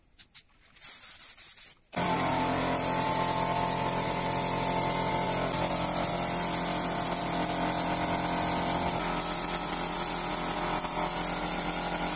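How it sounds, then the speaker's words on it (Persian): Steady, loud mechanical whirring with a broadband hiss runs almost continuously after a couple of brief starts, like a power sander smoothing puttied wood. "بعد اینکه بتونه رو زدیم سنباده میکشیم تا نرم بشه سطح کارمون."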